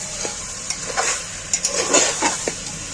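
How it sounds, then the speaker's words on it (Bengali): Mutton being stirred in a hot pan for a Bengali mutton curry, with a steady sizzle broken by scraping stir strokes, close up and without talk. "মাংসটা তুলে দিয়ে আমি ভালোভাবে নাড়াছাড়া করে নিই"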